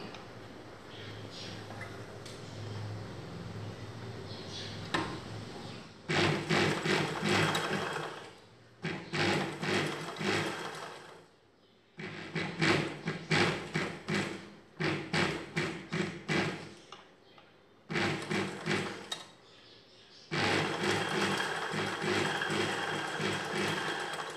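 A sewing machine stitches a blouse lining in several loud, steady runs broken by short pauses, its fast mechanical whir close by with no talk.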